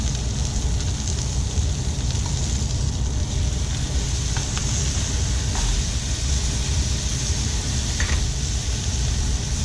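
Very thin slices of beef negimaki fry in a hot pan, making a loud, dense, continuous sizzle that holds steady throughout with no voices.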